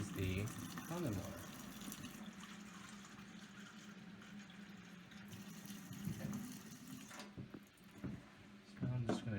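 Water runs steadily from a kitchen sink tap through a LeveLuk K8 water ionizer, a soft continuous rush with a few louder splashes near the end.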